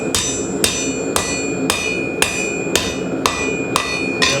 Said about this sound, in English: Now I'll take it to the anvil and do a little hammering on it.